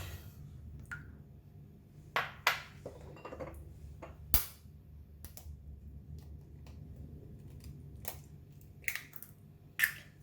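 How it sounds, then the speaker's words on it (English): Eggs, two of them twin-yolked, cracked against a hard edge for an onion omelette, giving a few sharp, close clicks and taps spread across a quiet kitchen with faint background hum. "I like to start off with cracking the egg."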